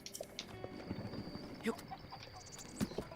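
Light, irregular hoof clip-clops from a horse in Zelda: Breath of the Wild, mixed with soft background effects and voices talking over them.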